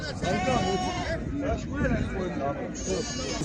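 Sheep bleating repeatedly at the Mashtaga livestock market for sheep, goats and cattle, several wavering calls overlapping amid a hubbub of nearby voices and market chatter.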